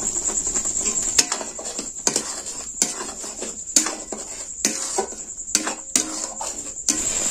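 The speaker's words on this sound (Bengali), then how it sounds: "আবারও আমি এইভাবে নাড়তে থাকবো।" A spoon stirring powdered milk into a bottle gourd mixture in a pan, heard as repeated scraping strokes and sharp clinks against the metal in an irregular rhythm, close and alone.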